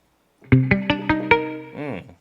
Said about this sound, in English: What's this muted guitar? Please sound good.